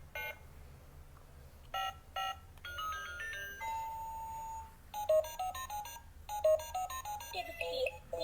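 A retro pony-shaped toy telephone with multi-mode lights and sound effects plays electronic ringing, dial-tone beeps and short melodic jingles in bursts, with a voice speaking amid the tones.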